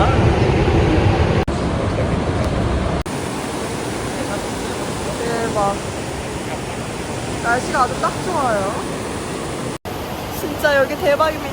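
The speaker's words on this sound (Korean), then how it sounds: "와 폭포 진짜" Rhine Falls waterfall roars as a loud, continuous broadband rush throughout, close and dense, with people talking excitedly over it in bursts.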